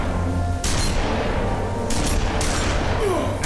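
Gunfire in The Wolf Among Us game rings out as several sharp, loud bursts over a dense, continuous rumble of action noise, with faint voices mixed in.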